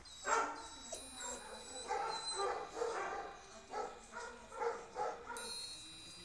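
A dog kept on a chain barks in repeated yelps and short bow-wow bursts with whimpering tones, fairly close, in a rough rhythm across several seconds, with no talk over it.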